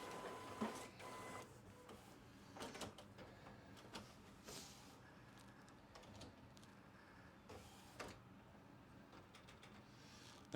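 An Epson WF-7110 EcoTank printer preparing its ink system gives off quiet mechanical whirring, soft clicks and shuffling internal movements at low volume, with a few brief louder bumps and no voices.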